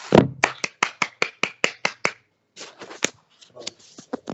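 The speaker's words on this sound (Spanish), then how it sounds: "yo os propongo el darle un aplauso" A few sharp, evenly spaced claps from a small group, close and distinct, followed by a looser scattering of softer claps.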